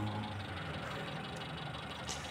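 A car engine idles steadily during a spark plug check, a low continuous rumble with slight uneven pulsing and no voices.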